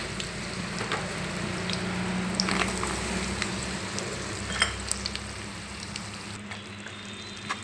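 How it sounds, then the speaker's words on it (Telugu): Jaggery melting in ghee in a pan over a low flame while making sesame laddu, a steady soft sizzle and gentle frying crackle with occasional faint stirring clicks, close and continuous, with no talk. "సిమ్లో పెట్టేసి కరిగించుకోవాలండి బెల్లాన్ని"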